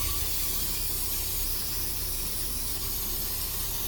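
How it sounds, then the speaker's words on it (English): Brake cleaner sprays onto the brake assembly of an Infiniti Q50 with a steady, loud aerosol hiss that runs unbroken and close up the whole time. "I'm gonna grab the brake cleaner,"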